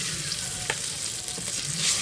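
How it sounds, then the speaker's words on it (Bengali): Marinated mutton sizzles in hot mustard oil with a dense, continuous hiss, a few soft pops and a stirring scrape, close by and steady. "তেলটা যখন গরম হয়ে আসবে তখন আমি ম্যারিনেট করা মাংসটি দিয়ে দেব।"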